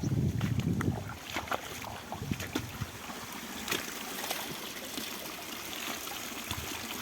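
Water flows and trickles down a drain, a soft continuous splashing with small gurgles, fairly close, with a brief low rumble at the start.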